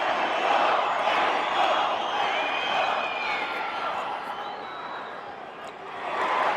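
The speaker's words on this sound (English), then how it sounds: "you hear those chants and the crowd starting to cheer on their pupil" Boxing crowd at a live Espinoza versus Ramirez bout chants and cheers, a dense steady roar of many voices with rising calls, sustained throughout and swelling again at the end.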